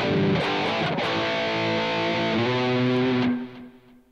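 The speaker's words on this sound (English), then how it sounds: "You can get some metal tones out of it." A heavily distorted high-gain metal guitar tone from a Positive Grid Spark 2 amp rings out a sustained chord, a second chord following, then the sound trails off into quiet.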